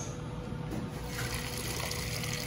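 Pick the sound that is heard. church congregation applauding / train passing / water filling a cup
water filling a cup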